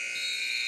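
A basketball game buzzer sounds at the end of the first half of a women's college game, one steady electronic drone lasting the whole moment without a break.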